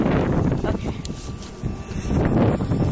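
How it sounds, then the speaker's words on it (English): Wind buffets the microphone at an airport in a constant low roar that swells and eases, with faint background sounds beneath it. "it's really windy"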